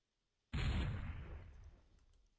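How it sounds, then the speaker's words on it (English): A grenade detonates in the video game Endless War 3: one sudden, loud blast with a heavy low boom that rolls off into a fading rumble over about two seconds. "I toss a nade there, and that didn't work at all"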